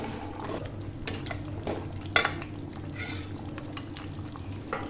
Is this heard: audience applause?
no